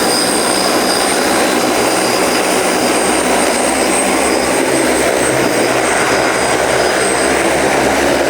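A very large 3D printed heavy lift drone flies with its propellers roaring, a loud, steady, broadband whir that stays constant and close throughout with no talking.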